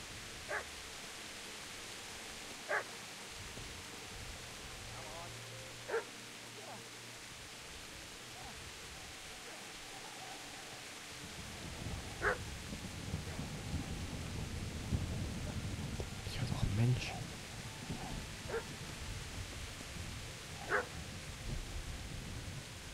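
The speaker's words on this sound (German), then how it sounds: "Ich höre noch einen Hund." Dog barking somewhere in the medieval world of Kingdom Come: Deliverance, short scattered yelps at a distance, spaced several seconds apart over a soft wash of rain-like ambient noise.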